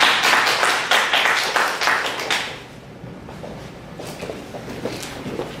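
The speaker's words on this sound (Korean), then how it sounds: "우리와 같은 박수 부탁드리겠습니다." An indoor audience at a citizens' forum in Incheon claps to welcome a speaker, a loud burst of dense applause fading after a few seconds into scattered, quieter claps.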